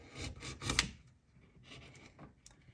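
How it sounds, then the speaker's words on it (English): Wood chisel sliced across the grain to set up a kerf for a crosscut handsaw, giving faint, brief scraping rasps, with one sharper stroke early and softer rubbing after it. "I use my chisel to slice, right?"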